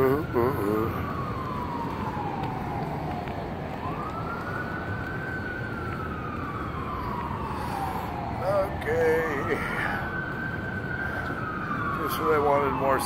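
A wailing LAPD siren rises and falls in long sweeps, fairly loud over steady traffic rumble, with a second siren tone overlapping near the end.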